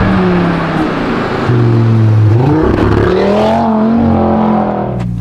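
An Audi RS3 engine revs up close and loud, its steady drone climbing in pitch and then holding at higher revs without a break.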